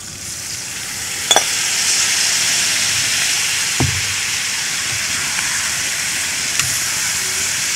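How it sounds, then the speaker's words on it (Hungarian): Bacon frying in a pan, a continuous close sizzle and hiss with a few sharp clinks of a utensil against the pan. "Amikor a szalonna elkezd egy kicsit áttetsző lenni, tehát már látjuk, hogy sül"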